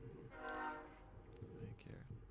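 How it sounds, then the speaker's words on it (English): Train rolling past and sounding its horn, a sustained horn tone up front over a broad rumble of passing cars, with people talking throughout. "Let's let this train roll by, Kevin"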